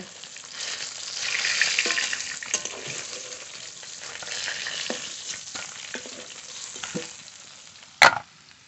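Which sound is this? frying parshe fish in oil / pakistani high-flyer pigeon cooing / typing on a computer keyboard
frying parshe fish in oil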